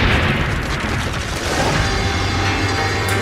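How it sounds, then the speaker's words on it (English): A hand grenade detonating after its time-delay fuse burns down, a sustained loud boom and rumbling blast wash filling the whole stretch with no voices. "the grenade detonates."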